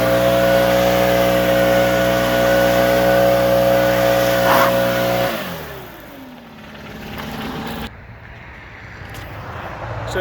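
A Stihl BR-800 backpack blower with a half-crank starter runs loud and steady with a strong droning hum for about five seconds, then drops to a lower, rougher idle that lingers after it dies down.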